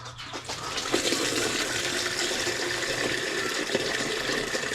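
Water poured out of a container to lower its level while preparing a calamansi drink for breeding animals, a steady continuous splashing and trickling stream running close by for the whole stretch with no talk.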